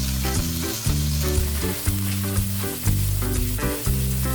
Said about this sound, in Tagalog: Saute ang ginger.